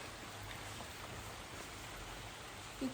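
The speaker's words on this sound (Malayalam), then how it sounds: "മഴ വരുന്നുണ്ട് ഇപ്പോൾ" Steady, faint rain hisses evenly throughout, a soft wash of falling drops without a break or any voices.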